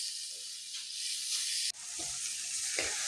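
Small chana fish crackle and hiss in a hot wok as a hand stirs them, giving a few soft stirring scrapes under the steady sizzle; nobody speaks.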